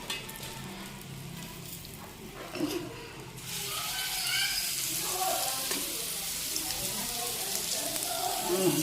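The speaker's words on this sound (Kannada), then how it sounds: "ಒಂದು ರೌಂಡ್ ಫ್ರೈ ಮಾಡಿದ್ದೀನಿ. ಇವಾಗ ಮತ್ತೊಂದು ರೌಂಡ್ ಹಾಕ್ತಾಯಿದ್ದೀನಿ." Fish frying in a pan at a home kitchen, a steady sizzle that swells louder after a few seconds as more pieces go in, with faint clatter and stirring throughout.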